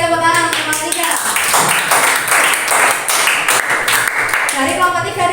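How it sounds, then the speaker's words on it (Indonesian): Applause for a presenting student group in a classroom: a steady burst of many hands clapping close by, dense and continuous for several seconds, with voices sounding at the start and end. "Oke, tepuk tangan untuk kelompok 3"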